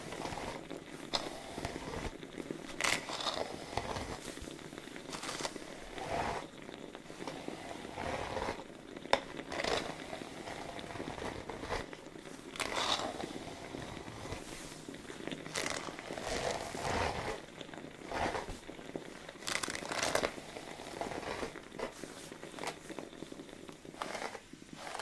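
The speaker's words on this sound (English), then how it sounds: "I'm going to comb and brush out the other side." A comb and brush pass through hair in soft, close brushing strokes, repeated rhythmic scratchy swishes at low volume during a salon haircut and steam treatment.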